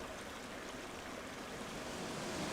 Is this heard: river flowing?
yes